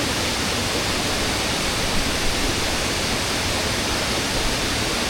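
Water falls in a constant, dense rushing roar at Kirindi Ella waterfall near Pelmadulla, Ratnapura, close and loud, with no other sounds standing out.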